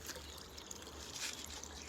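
Clean water trickles steadily from a clay water pot into a vessel, a faint, continuous watery hiss and dribble running for the whole moment without talk.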